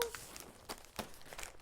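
A plastic bag of goldfish crackers crinkles up close in a few short, quiet bursts of rustling and crackling with small gaps between them.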